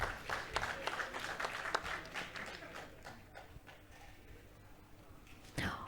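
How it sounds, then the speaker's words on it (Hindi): Audience applause at a panel discussion, a fairly loud round of clapping that is busiest at the start and gradually thins out, with a brief fresh burst near the end. "जोरदार तालियां हो जाए।"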